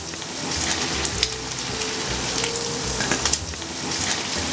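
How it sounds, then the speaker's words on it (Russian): Lamb neck and tenderloin fry together in a kazan, giving a steady close sizzle and spatter with small pops and no voices. "И продолжаем жарить вместе еще минут 7."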